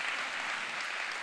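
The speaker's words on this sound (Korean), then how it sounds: "또 우리 함께 예배했던 모든 아이들에게 박수 한번 주세요." Congregation applause fills a children's Sunday church service, a dense, steady patter of many hands clapping throughout the short moment with no voice over it.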